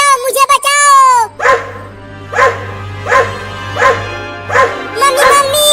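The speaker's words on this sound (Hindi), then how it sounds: "अरे इधर देखो, वो दोनों कुत्ते इधर हैं।" Cartoon dogs bark in a steady series of about five loud, evenly spaced barks over a low hum, after a brief high cartoon voice at the start.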